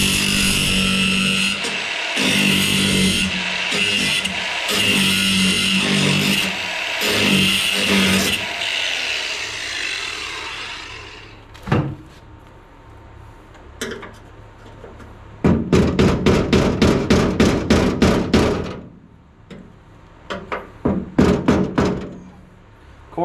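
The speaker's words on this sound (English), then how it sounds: "I'm grinding the heads down and then knocking them off there with a screwdriver." Bolt heads on a first-generation Dodge D150/D100 truck door are ground down by a power grinder in loud harsh bursts, then knocked off with a screwdriver in sharp repeated rapping strikes, up close with no speech.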